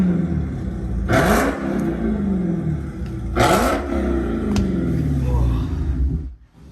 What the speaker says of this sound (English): from the rear, you can actually hear it back here rumbling because of the subwoofer in the trunk